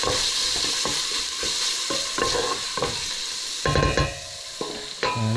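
Paprika fries in a pan for stuffed cabbage, giving a close, constant sizzle. A spoon stirs and scrapes against the pan throughout, with a few louder knocks near the end and no speech.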